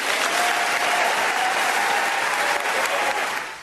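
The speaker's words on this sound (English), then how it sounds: "The speech was met with applause at the small Catholic college." Sustained applause from a crowd at a small Catholic college graduation after a speech, dense and steady throughout before easing slightly at the end.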